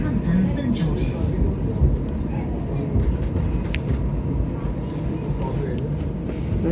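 A tram runs toward Bull Street, its steady low rumble and rolling rail noise filling the cabin throughout, with a recorded announcement voice speaking over it.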